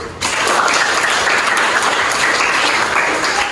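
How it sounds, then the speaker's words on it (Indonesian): Classroom participants clap for a presenting group at a teaching session, a loud burst of steady applause starting abruptly and continuing evenly to the end. "Tepuk tangan."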